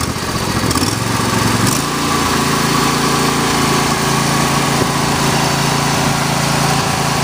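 A John Deere LA120 riding lawn mower engine runs steadily at high throttle, a loud continuous drone with a slight shift in pitch near the start and no talking.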